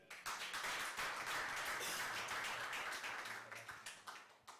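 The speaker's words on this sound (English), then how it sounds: "Let's clap for Feli." Audience clapping for a youth radio show presenter, a dense burst of many hands starting almost at once, staying loud and steady for several seconds, then thinning toward the end.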